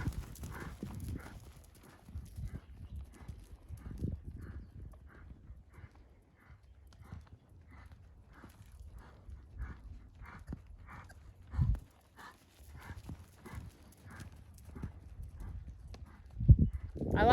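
Horse hooves canter through an arena in a soft, steady three-beat rhythm, muffled and fairly distant, repeating evenly for the whole stretch with a brief louder thump near the end.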